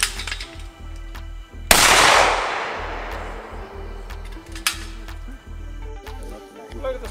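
A single loud, sharp shot from an old hand-engraved side-lock shotgun, its blast decaying over about a second, with quieter clinks and handling noises around it.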